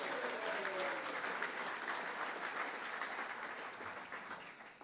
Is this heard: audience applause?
yes